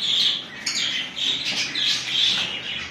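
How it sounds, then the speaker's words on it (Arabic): Lovebirds in an aviary at a bird reserve, chirping and squawking in continuous overlapping chatter close by. "هنا عندنا طيور الحب"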